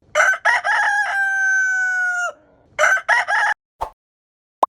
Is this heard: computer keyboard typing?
no